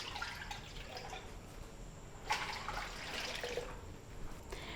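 Three glasses of water are poured into a karahi in a home kitchen for boiling minced meat, faint splashing bursts with a couple of clearer pours, quiet and close.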